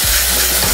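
Minced meat with soy sauce and tomato paste frying in a pan as it is stirred, a steady loud sizzle filling the moment with faint scraping strokes underneath.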